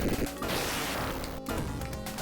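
An aircraft crashing in Super Thunder Blade on the Sega Genesis: a dense, loud burst of smashing crash noise that fills the whole moment, broken by one short gap before the harsh clatter resumes.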